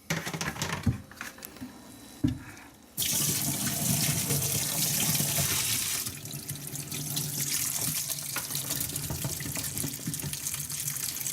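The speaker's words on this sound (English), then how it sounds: "Now I'm going to drain as much as I can and then give it a couple rinses." Running tap water pours steadily into a sink as salted cabbage and radish greens are drained and rinsed for kimchi, with a brief quieter patch of splashing before the flow turns loud and continuous.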